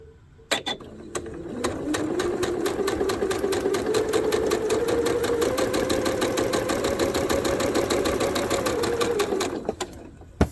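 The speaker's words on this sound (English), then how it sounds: "I'm going to turn it around, sew the other side" A sewing machine runs steadily for about eight seconds stitching a half square triangle quilt seam, a fast rhythmic whir with a few clicks before and after, close and alone.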